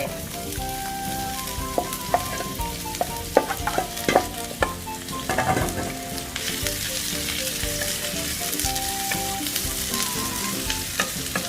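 Bitter melon being stir-fried with egg in a pan, with a steady loud sizzle broken by repeated clanks and scrapes of a spatula against the metal.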